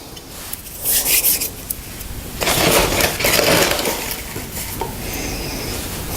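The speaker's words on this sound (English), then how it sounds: "I'm just going to add a little bit to this potting soil, just a little bit of Osmocote fertilizer, just to mix in" Potting soil being stirred and rubbed as a small amount of Osmocote fertilizer is mixed in by hand, giving close, gritty scraping and rustling bursts that come and go with no talking.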